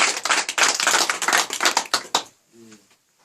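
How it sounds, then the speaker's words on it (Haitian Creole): A church congregation claps during worship, a burst of sharp, quick, uneven handclaps from many people close by. The clapping stops abruptly after about two seconds, and a short voice follows. "On applaudit Seigneur, ça va."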